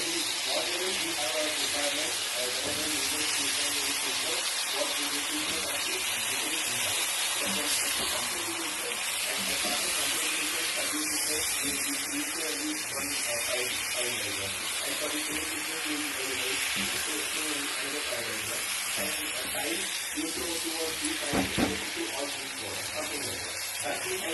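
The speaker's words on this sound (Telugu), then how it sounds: "ఇప్పుడు వంకాయ పీసెస్ని యాడ్ చేయాలి." Brinjal pieces sizzle in frying masala in a pan, a steady hissing crackle with someone speaking over it in Telugu.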